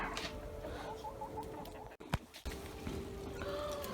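Chickens cluck softly in short repeated notes against a noisy farmyard background with ducks, with a brief knock partway through.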